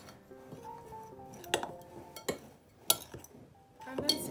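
A spoon clinks against a bowl while cake ingredients and salt are mixed, sharp metallic taps arriving irregularly over a quiet background.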